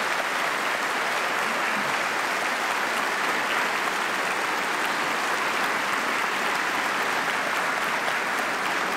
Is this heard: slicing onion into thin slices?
no